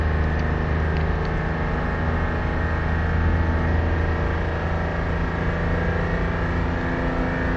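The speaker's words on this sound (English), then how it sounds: "this slow motion certainly sounds more like a tractor than a race car" A race car engine at Suzuka in slowed-down replay drones low and steady like a tractor, a continuous rumbling hum with no talk.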